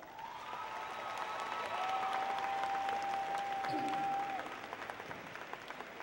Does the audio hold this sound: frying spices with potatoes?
no